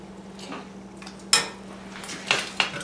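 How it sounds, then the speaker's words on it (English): A metal spoon scrapes and clinks against a pan while creamy spinach is stirred in, several sharp taps and scrapes over a faint steady hum, close by. "Now you just want to stir it in"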